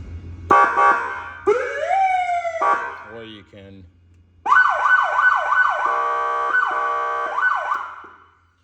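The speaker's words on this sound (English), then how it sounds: "There's a siren here, so you can just" An electronic siren on a 2021 Can-Am X3 XRS Turbo RR off-road vehicle whoops and rises, cuts out briefly, then wails in repeated rapid cycles up close, with a short spoken remark in between.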